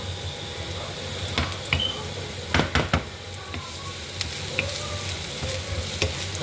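Chopped ginger and garlic sizzle while being stirred in a cooking pan, a constant frying hiss broken by a few scraping, knocking strokes of the spoon.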